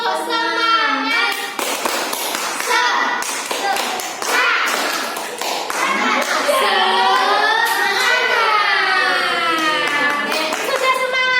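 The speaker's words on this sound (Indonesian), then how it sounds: "Ayo tepuk semangat." A school class claps in quick rhythmic bursts for a spirit cheer, with many voices chanting along over the claps.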